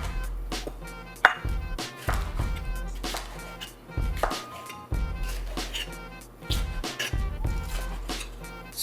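A knife cuts deseeded cucumber into squares on a board, making a series of fairly close, sharp chops in loose bursts.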